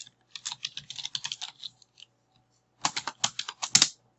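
Computer keyboard typing in two quick bursts, a run of rapid clicky keystrokes, a short pause, then another burst ending on a firmer tap; close and clear with no talking.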